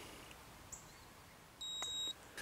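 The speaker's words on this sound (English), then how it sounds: "You're gonna press this button for 2 seconds and you're gonna hear a beep." An OutIn Nano portable coffee maker gives one clear electronic beep of about half a second when its heat button is pressed, with a faint chirp earlier and a quiet background.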